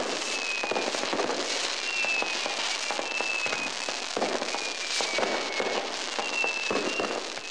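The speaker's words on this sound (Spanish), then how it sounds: "una impresionante exposición de fuegos artificiales que inundan de colores la noche" Fireworks go off over Cusco at night during the Inti Raymi festival, a dense and continuous crackle of many small bangs with faint whistles rising through it, heard at a steady middle distance.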